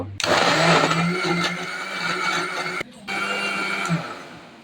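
An electric blender whirring through banana, sugar and milk, a loud, close motor whine in two bursts separated by a brief pause, with a steady hum and rising pitch.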